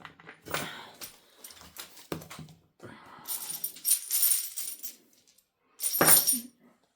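Big dice are rolled close by, making several short rattling, clattering bursts with quiet gaps between them.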